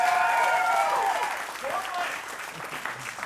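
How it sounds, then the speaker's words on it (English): Live comedy audience at a music venue breaks into sustained applause with scattered cheers and whoops, loud and full at first, then thinning slightly as voices call out over the clapping. "Give yourselves a round of applause."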